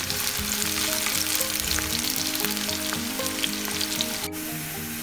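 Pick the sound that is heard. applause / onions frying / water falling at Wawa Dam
onions frying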